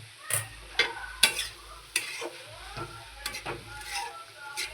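Pav bhaji masala mixture frying in a pan, soft background sizzle broken by repeated scraping stirs of a spatula at irregular intervals, close and moderately loud.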